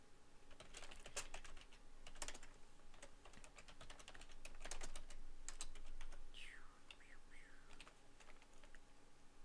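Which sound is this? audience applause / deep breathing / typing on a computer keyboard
typing on a computer keyboard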